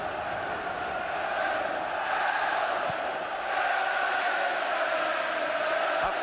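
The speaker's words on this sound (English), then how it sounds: "Just listen to those Leeds fans now." Leeds United supporters roar in a packed stadium at a League Cup final against Aston Villa, a steady distant wash of crowd noise and chanting with no single voice standing out.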